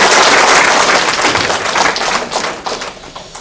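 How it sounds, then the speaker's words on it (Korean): Audience applause at a mayor's second anniversary ceremony with a flower presentation, loud close clapping that starts strong, tapers off, then rises briefly again before thinning out. "크게 박수로"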